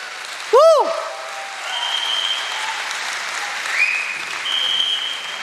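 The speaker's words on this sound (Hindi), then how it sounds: "डायरेक्ट सेलिंग इंडस्ट्री के लिए एक बार आप जोरदार अप्लॉज कर सकते हो" An audience in a hall claps loudly for the direct selling industry at a business opportunity seminar, a dense steady round of applause after a brief shrill microphone squeal.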